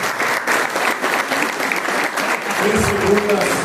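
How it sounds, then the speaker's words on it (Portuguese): An audience at a bakery awards ceremony applauds the winning bakeries, with steady, loud clapping from a large crowd lasting throughout and a faint voice starting over it near the end. "Por gentileza, vamos aplaudir estas padarias"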